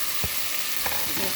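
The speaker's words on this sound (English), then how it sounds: "Just saute the onions." Black-eyed peas and onions sautéing in a pan, a steady bright sizzle with a few soft scrapes of stirring, close and continuous with no talk.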